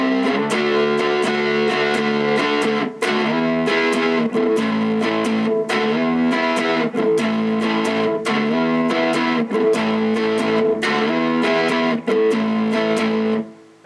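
Distorted electric guitar plays the post-chorus of a song with driving, steady strummed power chords and sharp accented hits repeating in a loud, continuous rock pattern.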